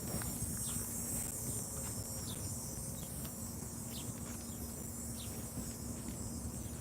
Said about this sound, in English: Sounds like the cicada agrees.